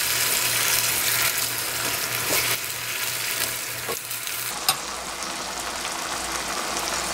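Chicken stir-frying with soy sauce in a pan, a steady loud sizzle with a faint hum underneath and one small clink partway through.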